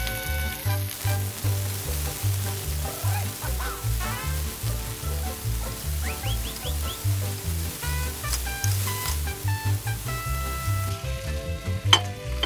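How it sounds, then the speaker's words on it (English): A colorful vegetable mix sautés in avocado oil in a skillet, a steady close sizzle running throughout under a looping music bed, with occasional bright stirring and pan sounds. "toss in your colorful veggie mix and saute for about 6 minutes"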